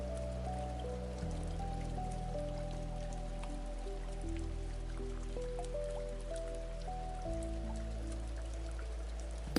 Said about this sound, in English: The rain had been falling since late afternoon, soft and steady.